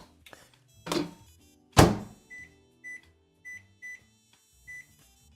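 Microwave oven heating a frozen meal: a couple of loud door thunks and clatter as the dish goes in, then a series of short electronic beeps from the keypad, close and clear with no talking.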